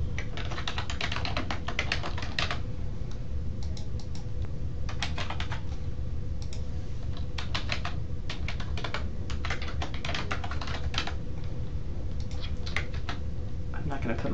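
Steady typing on a computer keyboard while filling out a web registration form, with bursts of quick key clicks and short pauses over a constant low room hum.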